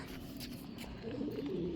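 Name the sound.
pigeons cooing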